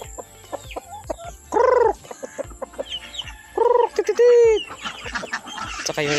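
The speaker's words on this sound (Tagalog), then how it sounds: "Yung mga manok natin nag-aantay na ng pagkain." Chickens on a rural farm cluck while waiting for food, with soft clucks scattered throughout and a few louder, drawn-out squawks near the middle. The birds sound close, with no talking.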